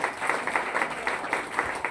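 Applause at an anti-addiction talk in Ghaziabad, a fairly faint patter of hand clapping from a small audience with a few louder bursts, brief and without speech.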